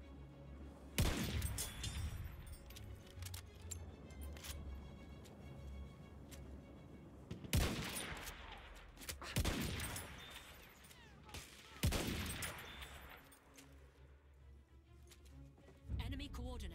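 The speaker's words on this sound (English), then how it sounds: "The enemies are being halted by our artillery barrage." Artillery barrage and gunfire in Battlefield 1 on the Sinai desert map, several heavy booming blasts and bursts of shots recurring over about seventeen seconds against a rumbling battle background.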